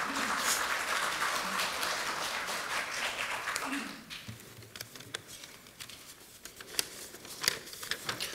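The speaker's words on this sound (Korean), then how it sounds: "힘찬 격려의 박수 부탁드립니다" An audience at a Korean political party commemoration event applauds loudly for about four seconds, then the clapping thins to scattered claps and rustling, with some background voices.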